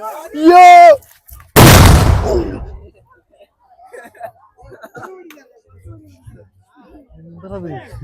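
A single sharp, loud firecracker bang on a road at a wedding in Thanjavur bursts out and trails off, preceded by a short vocal sound and followed by faint scattered voices.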